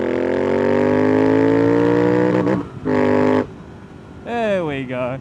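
A motorcycle fitted with Oxford Hotgrips Pro Sport pulls hard from standstill to 100, a loud, strongly harmonic engine note rising steadily before gear changes cut in with short breaks, then climbs again in higher gears.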